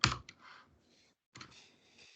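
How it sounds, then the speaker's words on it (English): Close computer keyboard typing, two short bursts of quick clicking keystrokes separated by a brief pause, fairly quiet with no voices over them. "If I start typing here,"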